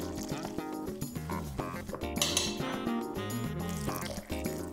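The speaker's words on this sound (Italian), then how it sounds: "vado ad aggiungere a filo l'acqua calda." Hot water trickling in a thin stream onto potato gnocchi dough in a home kitchen, a steady close pour with light splashing and clinks, running continuously under background music.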